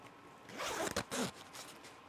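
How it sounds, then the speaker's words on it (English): A zipper on an A2 leather jacket is drawn up in one quick continuous pull lasting about a second, close and fairly loud, with quiet room ambience before and after. "And now zippered up."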